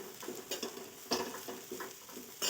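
Salt and spices being stirred into a Marathi-style hyacinth bean pod vegetable dish, heard as close, repeated scraping and clattering of a spoon in a pan with faint sizzling underneath, arriving in uneven bursts with no talking.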